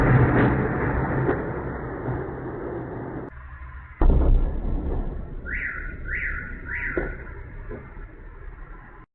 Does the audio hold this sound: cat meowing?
no